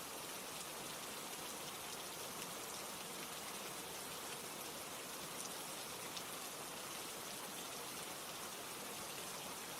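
Steady rain falling, a dense, even hiss of drops spreading across the whole stretch, constant and moderately quiet without pauses or voices.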